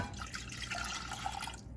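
Vinegar pours into a container for a pickling liquid, a soft, steady trickle and drip of liquid heard close and alone.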